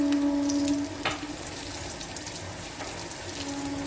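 Chillies, salt, ginger and garlic for an egg curry frying in a pan, a continuous close sizzle with a brief tonal ring at the start and a few sharp clatters, no talking.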